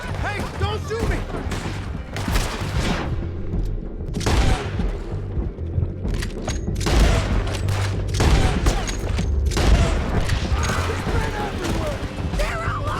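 Dense shootout gunfire in Red Dead Redemption 2, rapid loud cracks and booming volleys throughout, with shouting voices mixed in.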